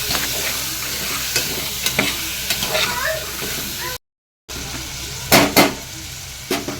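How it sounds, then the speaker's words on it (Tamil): Chickpeas stirred in a frying pan with onions for kadalai kulambu, steady sizzle under scraping spoon strokes and a few louder clacks near the end, with a brief dropout midway. "மூக்கடலையை போட்டு நல்லா மிக்ஸ் பண்ணிக்கலாம்."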